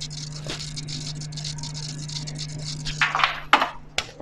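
An MH-2000 aquarium temperature controller gives off a steady low electrical hum, with a few sharp clicks and rattles toward the end.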